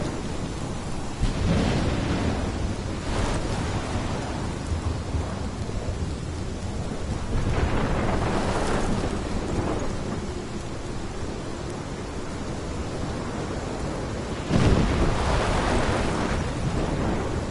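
A thunderstorm in the video game Life is Strange Remastered, with steady heavy rain and repeated rolls and cracks of thunder across the whole stretch, loud and continuous, no voices.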